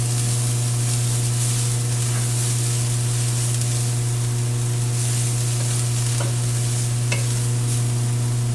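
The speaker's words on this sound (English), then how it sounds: "So we're going to add our shallots to the same pan. So we're going to stir these until tender." Shallots stirred in a pan while they fry for a chicken thighs with shallots and spinach dish, giving a steady close sizzle and hiss with a few faint utensil scrapes and no talking.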